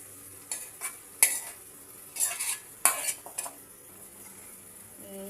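Spoon scraping and stirring potato and capsicum masala curry in a pan, several distinct metallic scrapes with faint sizzling in between, close and without talk.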